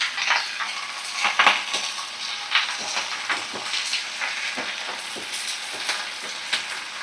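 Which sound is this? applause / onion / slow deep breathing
onion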